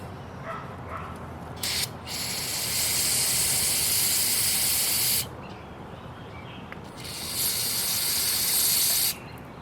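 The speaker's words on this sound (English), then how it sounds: "Now I'm going to take some CARB cleaner," Carburetor cleaner sprays from an aerosol can onto a Wen generator's carburetor in two long hissing bursts of several seconds each, close and loud, with a short spritz before them.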